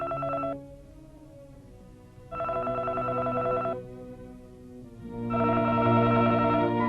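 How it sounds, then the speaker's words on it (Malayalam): A telephone being dialed in an old Malayalam feature film: three bursts of rapid dialing tones separated by quieter gaps, over a low steady hum. "അവർ ഫോണിൽ വിളിക്കുന്നു."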